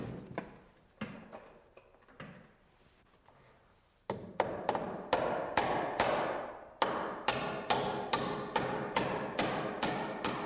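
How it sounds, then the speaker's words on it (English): A hammer drives 16-penny nails through the back of a hanger board into wooden stair carriages, with sharp, evenly spaced strikes ringing out close and loud after a few softer taps, no talking. "I'm nailing through the back of the hanger board into the carriages with some 16-penny nails"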